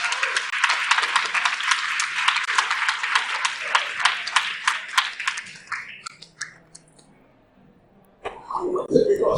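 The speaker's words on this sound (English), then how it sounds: "So again, one more time, Professor Francione, big round of applause." Audience applause for Professor Francione at Vegfest Scotland, a dense burst of clapping for about six seconds that thins out and fades to near silence, then a voice starts talking at the end.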